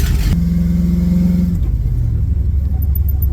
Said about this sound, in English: That doesn't sound half bad for a homemade muffler.